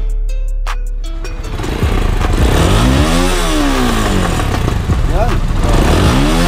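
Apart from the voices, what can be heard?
Rusi Sigma 250 motorcycle engine revving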